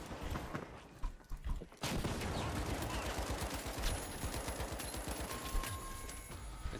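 Sustained gunfire from the video game The Finals, rapid rhythmic shots and bursts continuing almost without pause, loud and dense in a busy first-person match mix.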